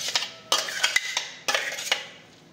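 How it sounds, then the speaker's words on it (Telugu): Homemade mango chutney scraped out of a mixer jar into a bowl: a few sharp metallic clinks and scrapes of a spoon against steel, close and clear, in two short bursts with quiet gaps between. "ఓ బౌల్లోకి తీసేసుకుందాం."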